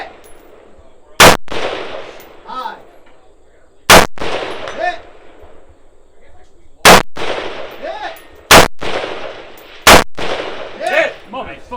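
A rifle fires at targets of shrinking size from a tank-trap shooting position during a team match. Five loud, sharp shots ring out at irregular intervals, with quieter voices talking in between.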